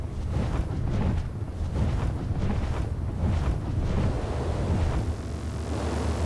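Water in the ARK: Crystal Isles video game, a steady broadband wash of lapping, surging water with a windy rush, continuous and fairly loud throughout with no talk.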